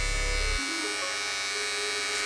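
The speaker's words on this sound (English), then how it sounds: "It's a new Bevel clipper, man." A Bevel PRO all-in-one electric hair clipper runs with a steady close buzz, its pitch shifting slightly after a brief start, with no talking.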